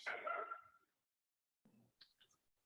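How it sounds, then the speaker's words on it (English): A pet puppy lets out a short burst of yapping barks up close, then falls silent before a few faint, scattered yips and whimpers follow. "I have to go check on my puppy. He is apparently barking at me."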